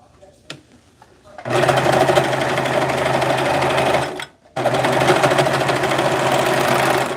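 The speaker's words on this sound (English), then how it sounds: "I will stitch this part of sleeve." Electric sewing machine stitching a garment sleeve, running in two long continuous bursts with a brief pause between, loud and close, after a few faint handling clicks at the start.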